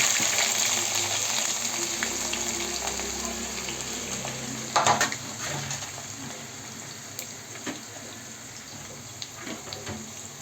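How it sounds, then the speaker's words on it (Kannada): Sliced onions frying in hot oil alongside green chillies for mango chitranna, a soft steady sizzle with a brief clatter of stirring midway, faint and alone without talk. "ಈರುಳ್ಳಿ ಚೆನ್ನಾಗಿ ಫ್ರೈ ಆಗಬೇಕು"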